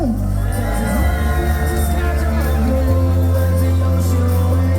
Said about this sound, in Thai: ขอเสียงกองเชียร์สันติหน่อย